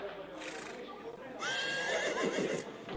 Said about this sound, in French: ce bruit que vous entendez, c'est l'écurie tenue par Igor, le palefrenier.